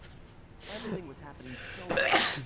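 A character sneezes during a Sly Cooper: Thieves in Time video game cutscene, a short breathy burst near the end that follows spoken dialogue.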